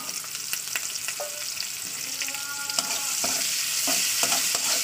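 Onions frying in leftover fish oil in a wok, a close, steady sizzle punctuated by scraping stir strokes and small clinks of the spatula, with no talk.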